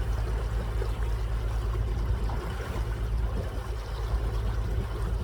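A boat travels along a river with a steady, continuous low rumble and a wash of water noise throughout, with no talking.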